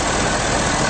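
A 2011 Ford F-250 Super Duty with a 6.7L diesel V8 idles up close, giving a loud, steady, even drone with no revving or other sounds.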